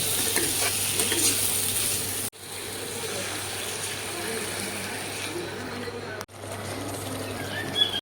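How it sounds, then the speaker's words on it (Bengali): Onion and spices being stir-fried in a pan, a steady sizzle with scraping strokes that runs throughout at close range, cut by two brief pauses. "তাড়াহুড়ো করে আবার মশলাগুলো দিয়ে আবার কষতে শুরু করে দিয়েছে"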